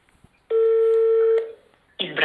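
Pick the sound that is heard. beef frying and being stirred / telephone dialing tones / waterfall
telephone dialing tones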